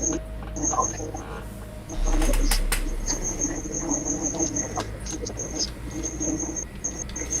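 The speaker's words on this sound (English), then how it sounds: "I thought it was a cricket outside." An indoor cricket chirping in repeated high, shrill bursts with short gaps, continuing under occasional talk and other background noise.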